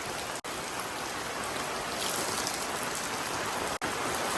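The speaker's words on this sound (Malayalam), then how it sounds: "ഹെവി മഴയാട്ടോ ഇവിടെ." Heavy rain pours down around a house, a loud, dense and continuous roar of falling water, broken only by two momentary dropouts, with no voices over it.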